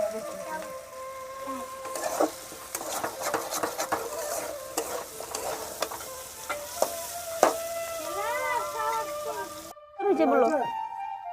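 Potato bhaji frying and being stirred in a pan on a home stove, with a steady sizzle and repeated scraping stirs throughout. Voices talk faintly in the background.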